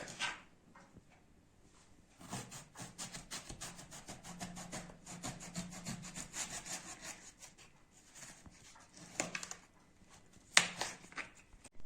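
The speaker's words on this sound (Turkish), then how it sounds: "Ve bunu dilimler halinde keseceğim şimdi." Knife slicing eggplant into rounds of medium thickness for islim kebab, a rapid series of rasping, sawing strokes on a board, with a few louder cuts toward the end and no talk.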